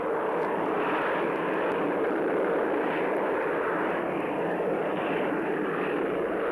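A Harrier jump jet with a Pegasus vectored-thrust engine flies with a continuous broad roar. The sound holds steady and loud for several seconds, with no voices.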